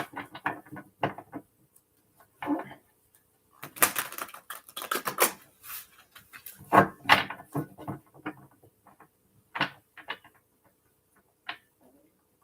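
A tarot deck is shuffled by hand close up, with crisp irregular riffling and tapping bursts separated by short pauses, sometimes quick runs and sometimes single soft clicks.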